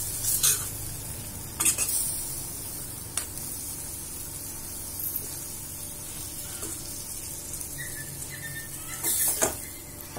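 Paneer and capsicum fry with masala in a pan, a continuous close sizzle broken by several sharp scrapes and clanks of stirring, with no talking.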